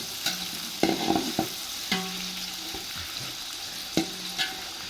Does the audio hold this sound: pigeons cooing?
no